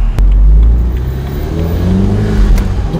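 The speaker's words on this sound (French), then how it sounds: "on va faire quelques accélérations pour que vous puissiez entendre le son du moteur" BMW 3 Series E93 320i with a 170-horsepower petrol engine revving up, a loud, close engine surge and hold that dominates the three seconds with no talking.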